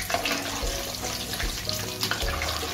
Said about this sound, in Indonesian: kita goreng hanya sebentar saja